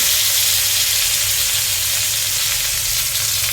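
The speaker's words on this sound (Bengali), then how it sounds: "তেলের মধ্যে লঙ্কা ফোড়ন, কাঁচা লঙ্কা ফোড়ন, তার মধ্যে দিয়ে দিলাম পোস্ত।" Poppy seeds frying in hot oil with green chillies, a loud, dense and steady sizzle close up with no talking.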